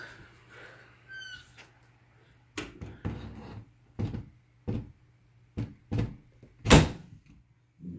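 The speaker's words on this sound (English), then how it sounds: "when you close the door" A door swings shut with a loud, sharp thud, preceded by a few softer knocks and creaks, close by with a steady low hum behind.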